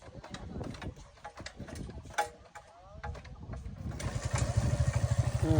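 A Suzuki Gixxer FI motorcycle engine is started, sputtering through a few uneven bursts before catching into a loud, steady, throbbing idle nearby, with a little background voice and handling noise.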